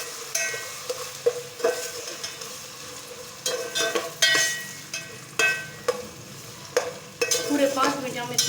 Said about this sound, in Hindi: और 5 मिनट इसको अच्छी तरह से भून लेंगे।